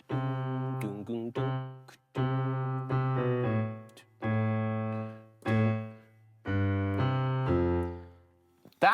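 Piano playing a left-hand bass line for a song with a 2-5-1 chord progression inserted, heard as a series of sustained chords struck one after another with short gaps between them, clear and alone.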